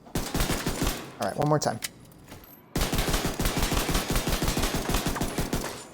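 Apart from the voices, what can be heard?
gunfire shooting in The Division 2 video game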